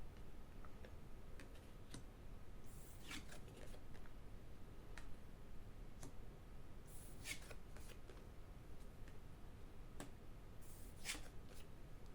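Oracle cards being shuffled for a reading, soft repeated riffling and light tapping close by in a quiet room, in several short bursts.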